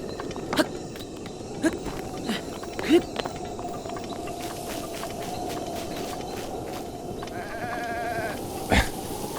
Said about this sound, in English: That goat sounds terribly unimpressed.